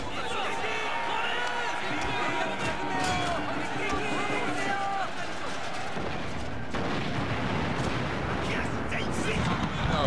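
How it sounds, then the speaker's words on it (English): Battle in the Shogun II video game, Korean mod: loud explosions and artillery fire roll on without a break, dense booms and gunfire layered over a constant roar of battle noise. "Oh, it just sounds like really loud explosions."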